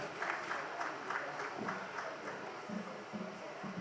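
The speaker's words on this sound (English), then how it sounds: "A round of applause for Jubril, ladies and gentlemen." An audience at a tech conference in Africa claps steadily but faintly from across the hall as a speaker walks up to the stage.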